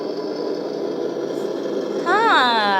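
An engine sound module on a 1/14 scale 6x4 RC tractor truck hums in a steady idle, then a rising, wavering tonal whine or horn-like sweep cuts in near the end, close and fairly loud.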